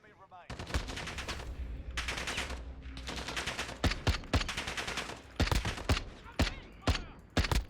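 Video game gunfire rings out in quick automatic bursts and then separate sharp single shots, loud and close, with brief gaps between volleys and no talking.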